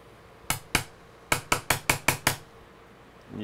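A hammer taps a chisel during a workshop build of a Retropie inside an NES cartridge: nine sharp metallic strikes, two spaced apart and then seven in quick, even succession, close and clear in a quiet room.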